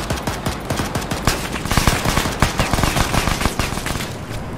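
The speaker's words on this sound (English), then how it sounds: "God, we are shooting each other" Dense, continuous gunfire in the military game Arma 3, with loud rapid automatic bursts and overlapping shots filling the whole stretch.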